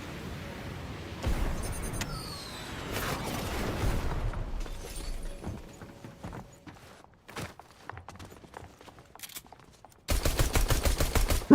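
Gunfire in a shooting video game, with bursts of rapid automatic shots and single cracks mixed with footsteps and game effects, ending in a loud sustained volley, with no talk over it.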